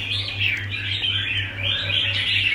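A small bird in cold weather chirps in quick, repeated bursts of high, bright notes that rise and fall, close and fairly clear over a low steady hum.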